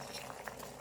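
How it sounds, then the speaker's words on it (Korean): Water boiling in a pot on the stove for cooking noodles, a steady low bubbling and gurgling at a constant level. "냄비에 물을 붓고 끓기 시작할게요."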